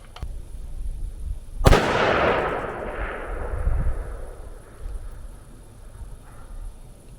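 Single rifle shot fired at a long-range target about 1,027 yards away through a 3-24x56 scope, a sharp loud crack followed by a long rolling echo that fades slowly across open ground.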